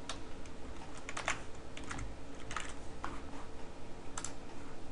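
Quick bursts of keystrokes on a computer keyboard typing a short word into a Windows Start menu search, light clicking taps clustered in small irregular runs over a low steady hum, with no voices.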